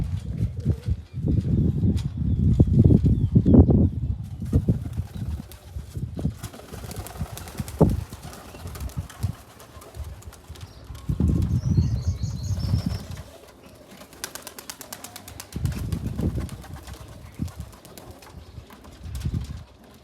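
Pigeons in a village coop flap their wings in several loud, close bursts with soft cooing between them, with quieter pauses separating the flurries.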